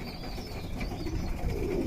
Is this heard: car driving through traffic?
no